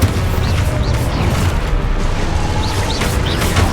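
An Expulso explosion spell cast in Hogwarts Legacy, a loud, heavy booming blast that rumbles through the whole moment with a few sharper pops on top.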